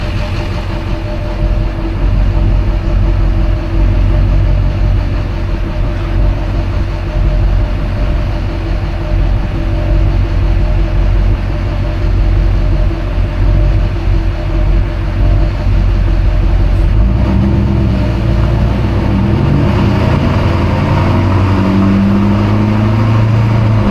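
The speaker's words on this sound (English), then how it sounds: "I didn't know my truck sounded like that. That drone is cool." Low, steady engine drone from a big blue GMC truck while driving, a continuous loud rumble with road noise that deepens and rises slightly near the end, no talking.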